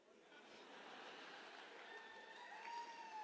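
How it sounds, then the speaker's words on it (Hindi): An audience at a network marketing training seminar claps in steady, dense applause that continues throughout, fairly faint, with a voice briefly heard over it. "ताली क्यों बजा रहे हो?"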